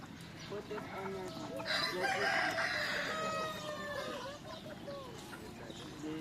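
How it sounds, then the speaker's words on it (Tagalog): Rhode Island Red hens cluck and call at a campground animal area, with a burst of louder calls in the middle over soft background noise. "Yan ang ating hen ng Rhode Island Red na nagpo-produce po ng brown egg."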